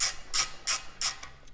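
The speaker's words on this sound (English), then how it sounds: "I'm gonna need this Torx tool again." A Torx tool turns out the screws on a motorcycle side panel, giving four short, crisp ratcheting bursts spaced about a third of a second apart at close range, with no talking.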